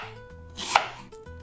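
A knife chops through half an onion on a board for beef bulgogi, one sharp close cut standing out over quiet kitchen background.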